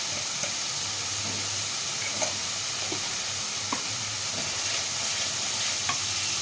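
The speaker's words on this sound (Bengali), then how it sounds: "মশলাগুলো একসঙ্গে কষে নেব" Spices being sautéed together in a pan for a Bengali prawn curry with potato and pumpkin give a steady broadband sizzle, with occasional soft scrapes of stirring. No one speaks.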